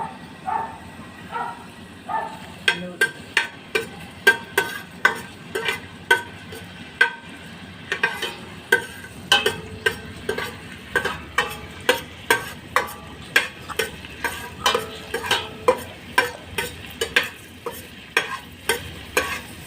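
Chopped onions fry in a pan for Bicolano-style adobong sitaw, a spatula knocking and scraping in a steady, regular rhythm over a soft sizzle, close up with no talk.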